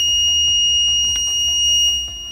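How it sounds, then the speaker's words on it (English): Electronic fire alarm buzzer triggered by a high-temperature detector in a hospital room, sounding as a steady high-pitched tone held continuously throughout, with faint clicks and background noise beneath. "Once high temperature is detected, assuming there's fire, a buzzer will go off."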